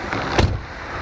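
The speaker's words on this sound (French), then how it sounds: "C'est un vrai son de porte Mercedes." A 2019 Mercedes-AMG GT 63 S door swings shut with a single solid, heavy low thud near the middle, followed by the quiet hush of the sealed cabin.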